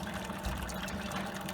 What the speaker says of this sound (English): you can see mash out water's going in